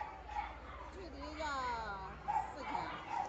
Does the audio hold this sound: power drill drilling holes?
no